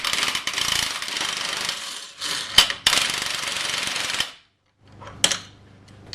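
A 7/16 wrench loosens a set screw on a D+D MagnaForce clutch arm, producing bursts of rapid metallic ratcheting clicks, loud and close, broken by brief pauses and sharp knocks, with no talking.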